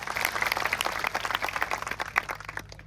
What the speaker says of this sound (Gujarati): બધા માટે એકવાર જોરદાર આપણે તાળીઓ પાડી લઈશું